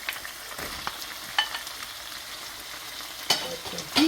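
Saltfish and butter beans cooking in a pot, a soft steady sizzle broken by several sharp clatters and scrapes of a spoon against the pot.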